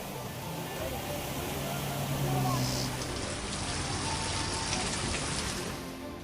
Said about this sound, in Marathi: मुसळधार पावसामुळे पुणे शहराची चांगलीच दाणादाण उडली